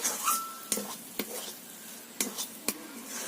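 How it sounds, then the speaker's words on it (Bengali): Fried cumin and coriander powder being stirred in a pan on a low flame, with a faint sizzle beneath a few sharp, separate spoon knocks against the pan. "দিয়ে ভালোভাবে নাড়তে হবে"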